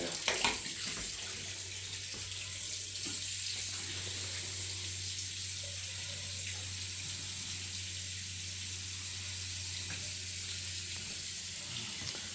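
Hot water pours steadily from a tap during a Moen valve replacement, a continuous hissing rush with a low hum underneath, lasting throughout without talk.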